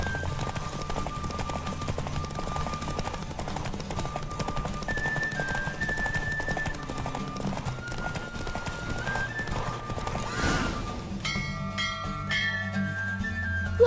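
In The Witcher 3, a horse gallops in a race with steady rhythmic hoofbeats and an occasional whinny, heard over a game music score.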